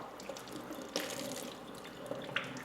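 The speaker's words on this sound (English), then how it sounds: "So using cold water, we're going to go ahead and just rinse the ribs off." Cold tap water runs and splashes over raw pork ribs in a sink, a steady close-up wash with occasional drips and small handling knocks, no talking.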